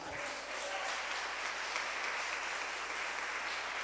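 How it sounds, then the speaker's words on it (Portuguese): Church congregation applauding during a Portuguese-language sermon, a steady, moderately faint patter of many hands clapping that carries evenly from start to end. "Aplauda o Senhor."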